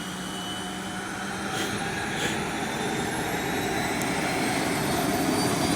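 A float plane takes off at Brooks Camp in Katmai, Alaska, its engine a broad, distant roar that swells slightly and holds steady across several seconds.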